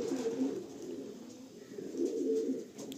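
Racing pigeons kept for sale in Kolkata coo in low, throaty, repeated calls that rise and fall close by, almost without pause.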